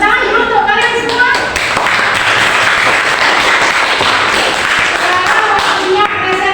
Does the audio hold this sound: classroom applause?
yes